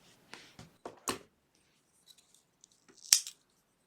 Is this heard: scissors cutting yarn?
yes